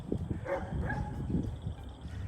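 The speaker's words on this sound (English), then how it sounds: "our guard dogs over here, they're doing their job, they're barking." Guard dogs at an animal sanctuary bark in short bursts at a moderate distance, fairly faint, with no talking.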